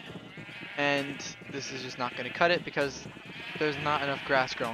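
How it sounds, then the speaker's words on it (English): Sheep in a video game bleat in a quick run of wavering calls that come near and loud, mixed with a person talking over them. "I really have to sort something out with these sheep"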